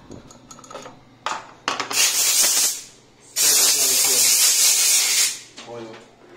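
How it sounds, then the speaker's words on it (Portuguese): A small saw scraping across a revolver grip, with two long, harsh rasping strokes and a few shorter scrapes between quiet pauses, close and fairly loud. "Tem que pegar a serrinha e raspar assim, tirando o suco."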